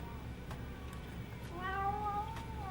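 A cat meows with a drawn-out, wavering cry over a steady background hum, fairly close.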